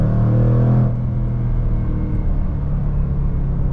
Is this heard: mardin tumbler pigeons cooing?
no